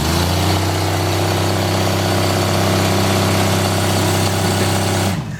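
A Green Hornet car's engine idles steadily and loudly up close, a deep, even rumble holding constant for about five seconds before cutting off abruptly at the end.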